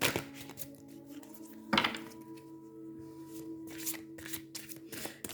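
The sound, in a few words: shuffling Gaia oracle cards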